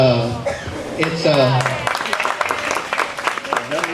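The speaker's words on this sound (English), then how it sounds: "y'all clapping for me" A person speaks at first, then a crowd bursts into steady clapping that continues to the end, fairly close and lively.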